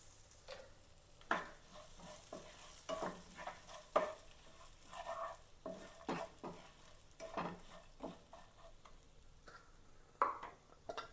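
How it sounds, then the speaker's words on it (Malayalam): Salted dried shrimp frying in oil in a pan over low heat, a soft, quiet sizzle broken by repeated light clinks and scrapes of a stirring spoon. "ഉണക്കച്ചെമ്മീൻ വറുക്കാൻ പോവാണ്"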